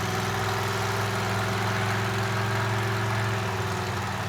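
Car engine with a new half-to-1 V-drive pulling through the gears, a steady loud mechanical drone with strong low harmonics holding throughout, close and continuous with no talk over it.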